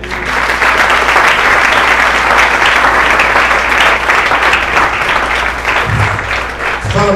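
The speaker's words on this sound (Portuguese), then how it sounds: "Vamos aplaudir o Senhor?" Church congregation at a Sunday service applauding: loud, sustained clapping from many people filling the whole stretch, with a low hum underneath and a brief voice near the end.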